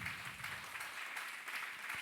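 A church congregation applauds, many hands clapping together in a steady, moderately loud wash of sound with no voices over it.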